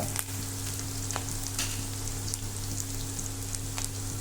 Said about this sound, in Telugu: లైట్గా రెడ్డిష్ కలర్ వచ్చేంత వరకు చక్కగా వేపండి